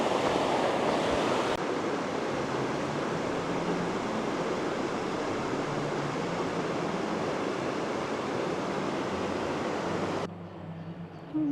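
Two glacier river streams in the Swiss mountains near Oeschinensee, one crystal clear and one milky with silt, rush and merge in a broad, continuous roar of water that cuts off abruptly near the end.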